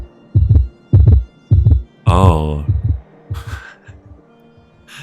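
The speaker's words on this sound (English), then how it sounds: "That's a heartbeat." A heartbeat sound effect in the video game Book of Hours thumps in steady, loud paired beats, then a brief exclamation and other game sounds break in before the beats carry on more faintly.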